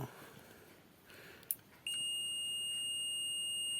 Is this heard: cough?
no